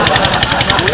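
A loud water pump engine runs for irrigation in a rural fishing area, a close, steady mechanical chugging with rapid rhythmic knocking pulses and a voice over it.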